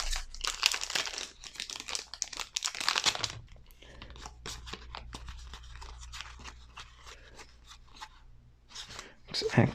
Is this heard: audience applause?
no